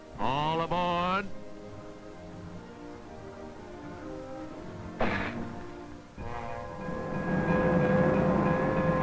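A train runs along a railroad track with a rising horn-like whistle at the start, a brief burst of rumble midway, then a steady rolling rumble with sustained tonal ringing toward the end.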